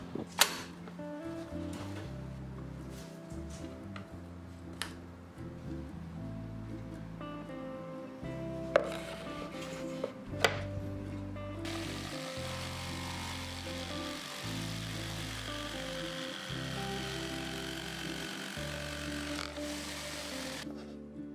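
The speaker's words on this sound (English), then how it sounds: "I try using my jigsaw, make sure the length of blade is right." A jigsaw cuts through wood, its motor buzzing in repeated start-and-stop bursts of rough, rattling noise at close range, with a few sharp knocks between the cuts.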